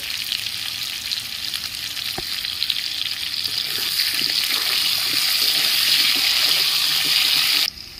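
Salted potato pieces frying in hot oil in a pan, a loud, dense, continuous sizzle that swells steadily, with occasional stirring clicks, before cutting off abruptly near the end.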